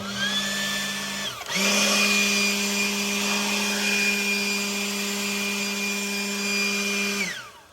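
A Ryobi 40V leaf blower whirs at its regular speed, then briefly drops out and spins up into a louder, higher-pitched turbo boost roar that holds steady before winding down.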